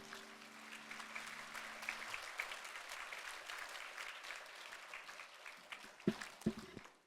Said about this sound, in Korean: 하나님께 영광의 박수 하시겠습니다